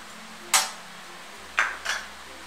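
Utensil clacking against a pan while noodles are stirred with soy sauce, three sharp metallic knocks spaced apart over a quiet background.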